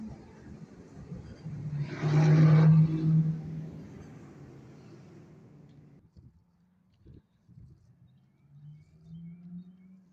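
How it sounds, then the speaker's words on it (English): A car rolls past on a residential street and swings back around, its engine swelling to a rumbling peak early on, then fading to a low, intermittent hum as it turns and idles nearby. "Now this car done turned back around."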